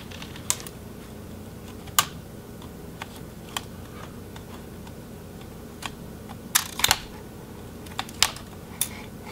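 An MSI GS65 Stealth thin laptop casing is wiggled apart by hand, giving scattered sharp plastic clicks and small creaks over a quiet, low hum.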